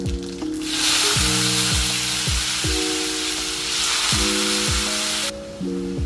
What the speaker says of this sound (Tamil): இப்போ நறுக்கிற வாழைக்காயை எண்ணெயில் போடணும்.